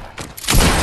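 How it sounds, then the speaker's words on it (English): Gunfire in the video game Fortnite, a short burst of shots that swells loud and close in the second half after a quieter opening. "Who's shooting at me?"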